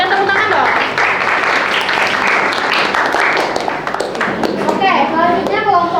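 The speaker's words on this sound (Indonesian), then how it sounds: "Berikan tepuk tangan dong." Classroom applause from a group of students, dense and sustained, with children's voices mixed in throughout.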